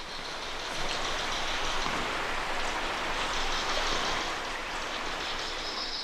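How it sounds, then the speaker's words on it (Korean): Water rushes steadily at the wide mouth of a deep cave in Bolivia, a dense, continuous hiss that stays loud and even throughout, with no voices. "물소리도 들리고 새소리도 들리거든요"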